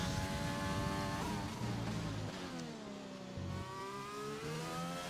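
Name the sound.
race car engine, McLaren in a racing video game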